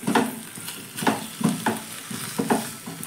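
A bread filling with tomato ketchup is stir-fried in a pan, a spatula scraping and tossing it in quick repeated strokes over a soft sizzle, close and clear with no talk.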